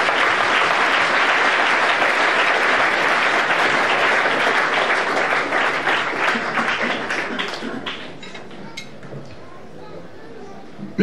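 A church congregation breaks into loud, dense applause that holds for several seconds, then thins into scattered claps and murmuring voices as it fades out.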